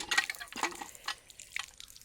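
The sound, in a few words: water running from a temple water pump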